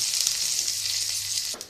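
Garlic, dried chillies and panch phoron frying in hot oil give a steady, bright sizzle for almost two seconds, close and alone, fading briefly at the end.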